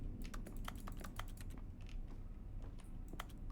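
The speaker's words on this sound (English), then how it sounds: "the typing sound isn't because you're touching something. You can just play it" Rapid keyboard typing from The Stanley Parable video game, a flurry of crisp, irregular key clicks over a low background hum, fairly quiet and with no voices.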